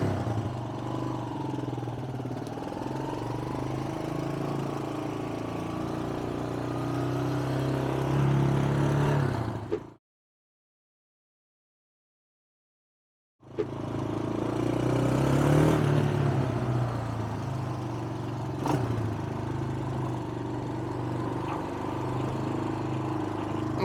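The engine of a 1997 Kawasaki Mojave KSF250 ATV sits in neutral with the clutch pulled, giving a steady, close, moderately loud idle that cuts out completely for about three seconds and then resumes at the same even rumble.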